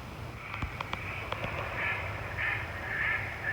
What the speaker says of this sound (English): Some kind of bird or something. Really loud, though.